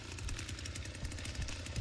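A chainsaw runs in The Texas Chainsaw Massacre video game, a loud, close, rattling engine chug that churns in steady rapid pulses for the whole moment.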